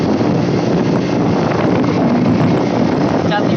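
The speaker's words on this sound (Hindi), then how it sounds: "अभी चढ़ाई है, बाइक स्लो स्लो चढ़ रहा है" A 70cc motorbike carrying two riders labours slowly up a steep mountain road in Balochistan's Khirthar range, its steady engine drone buried under heavy, continuous wind buffeting on the microphone throughout.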